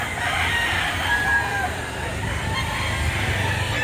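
A gamecock rooster crows at a poultry market in Lipa City, Batangas, a drawn-out call over a noisy, busy background with other birds and some voices.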